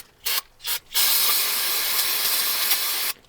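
Brake cleaner spray can blasting into the engine of a freshly rebuilt, long-abandoned Plymouth Barracuda: three short hissing bursts, then one long, steady, loud close-up spray lasting about two seconds.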